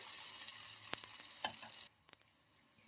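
Corn batter spooned into hot oil sizzles steadily, a close frying hiss that cuts off sharply partway, leaving a few faint clicks and soft stirring sounds.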